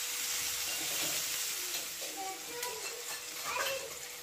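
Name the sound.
onions and tomatoes sizzling while cooking in a pan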